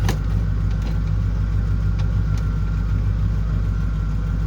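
A car engine idles steadily just after a cold start. It is a loud, close, continuous rumble with no talking over it.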